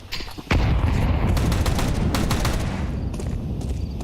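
Rapid bursts of Tec-9 pistol fire in a Counter-Strike match, a loud, dense stream of close shots running continuously after a brief quieter start, with no talk over it.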